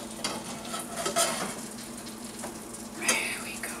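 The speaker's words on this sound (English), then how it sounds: "Sizzle. Put that butter on top," Butter crackles and sizzles softly in a hot pan, a faint continuous frying hiss with a few light scraping clicks.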